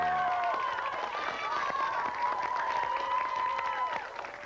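A school cheering squad at a kids' quiz show claps and cheers loudly and continuously, with bright shouts and whoops layered over steady applause that fades slightly at the end.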